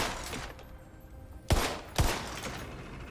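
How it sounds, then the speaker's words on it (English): Gunfire in the video game Tiny Tina's Wonderlands: two loud, sharp shots about half a second apart, ringing briefly over a low ambient game backdrop. "I see targets that I can shoot."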